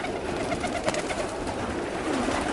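Pigeons in a loft with rollers among them: repeated soft, low cooing from nearby birds over a murmuring background, several overlapping calls at an unhurried pace.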